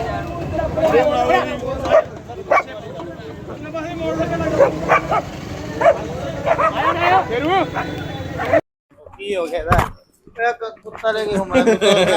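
A dog riding in an e-rickshaw gives yips and barks mixed into loud crowd babble and someone talking nearby, with a brief pause partway through.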